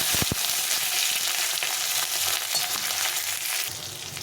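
Mixed vegetables with ginger and green chilli fry and get stirred in a pan, giving a loud, steady close-up sizzle with a few scraping clicks at the start.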